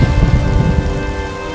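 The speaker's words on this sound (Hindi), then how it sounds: "बाहर मूसलाधार बारिश शुरू हो चुकी थी।" Heavy torrential rain pours steadily over a thunderstorm's low rumble, a dense continuous wash of sound with no voices.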